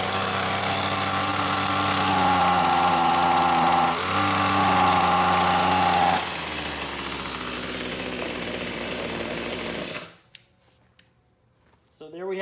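A Ryobi string trimmer's small two-stroke engine runs loud and steady near the microphone, its pitch dropping partway through before it cuts out into near silence and briefly picks up again.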